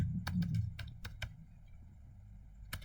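Keys clacking on a computer keyboard as commands are entered into network switch configuration, a few quick bursts of separate keystrokes near the start and one more near the end, close and fairly quiet.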